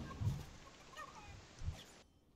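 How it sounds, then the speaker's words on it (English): Chicken clucking in the video game Fortnite: two short, low clucks spaced over about two seconds, moderately loud against a quiet game background. "Drop that chicken, give me that chicken."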